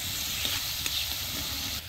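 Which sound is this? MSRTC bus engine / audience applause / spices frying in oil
spices frying in oil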